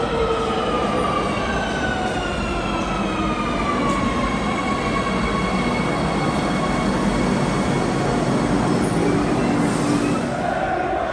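A metro train rolling steadily toward a football stadium, with a loud continuous rumble and a rising and falling whine from the rails, heard up close inside the carriage with no break for about eleven seconds.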